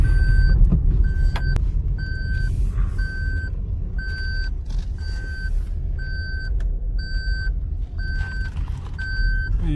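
A car reverses into a parking area at the Kala Amb site in Panipat, its reversing alarm beeping in a steady, evenly spaced rhythm over a continuous loud engine and road rumble, with no talk.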